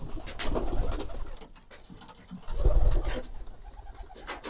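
Sick pigeons cooing in soft, low rolling calls, close by, with fluttery shuffling between the coos.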